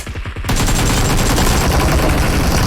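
Loud, dense gunfire from a video game: a few separate shots, then a continuous close burst of rapid fire that fills the rest of the moment with no talking.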